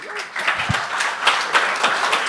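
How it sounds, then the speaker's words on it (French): Audience applause at a live comedy show, a burst of crowd clapping that swells and continues steadily for a couple of seconds, with scattered voices in the room. "Est-ce qu'on peut applaudir Anto, tout le monde?"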